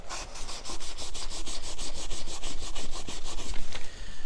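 A cloth soaked in denatured alcohol is rubbed briskly over a chalk-painted kitchen cabinet, a fast, continuous rhythm of scrubbing strokes that stays close and loud throughout, with no talk.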